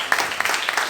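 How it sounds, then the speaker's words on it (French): A church congregation applauding a couple at a religious conference, a short burst of dense, lively clapping with some voices mixed in. "C'est le couple Kisley que je demande d'applaudir très fort."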